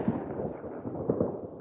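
New Year's Eve fireworks go off in the distance from a balcony, giving several dull, muffled booms and crackles spread over a steady rumble of background noise.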